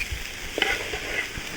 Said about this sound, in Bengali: তো দেখেন ভাজা হচ্ছে, নাড়াচাড়া দিয়ে ভেজে নিচ্ছে